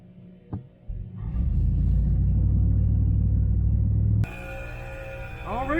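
A truck engine idles in a deep, steady rumble that grows louder and holds for several seconds before cutting to a lighter, higher-toned hum.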